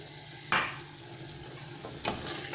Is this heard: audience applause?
no